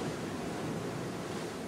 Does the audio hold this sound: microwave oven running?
no